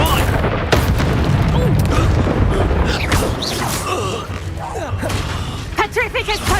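A Bombarda spell blast in Hogwarts Legacy: a heavy boom with rumbling impact debris early on, followed by clattering combat effects, while a voice talks and shouts over the fight.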